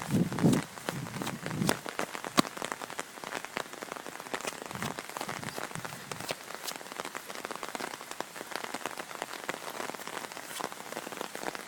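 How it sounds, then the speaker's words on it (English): Acid rain in the Fred Space video game patters steadily across a surface, a dense, continuous hiss of drops heard alone, with a few heavier knocks in the first seconds. "Yeah, I'm safe from the acid rain."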